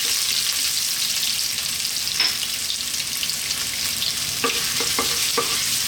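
Ginger sizzles in hot sunflower oil in a wok, a steady bright frying hiss with a few light clicks of stirring near the end, close and alone.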